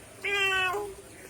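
A mimicry artist's voice imitates a cat with a single short meow, clear and fairly close, rising and falling in pitch for about half a second against a quiet background.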